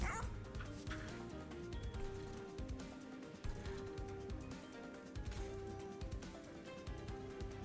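A cartoonish dog yips and barks from the Bone Dog unit in the video game Monster Train 2, short repeated barks and whimpers over game music.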